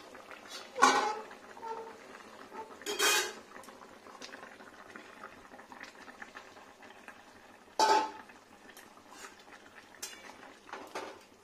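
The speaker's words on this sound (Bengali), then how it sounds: "এবার এরকম কিছুক্ষণ ফুটবে, স্লো টেম্পারেচারে মোটামুটি সেদ্ধ হয়ে যাবে পেঁয়াজ টেঁয়াজ।" A pot of katla fish curry with onions simmers on low heat with a faint, soft bubbling. Several louder clinks of a lid and utensils break in at intervals, and no one speaks.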